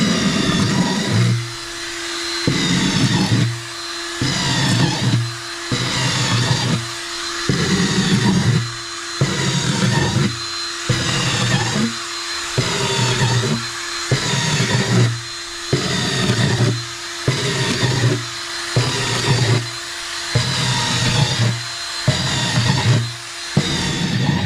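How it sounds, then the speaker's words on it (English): Power drill boring holes into boxes in a shed, in short repeated whirring bursts with brief gaps between them. The bursts are loud and close and go on steadily for the whole stretch. "I'm going to put soil in them, but they need to be drilled."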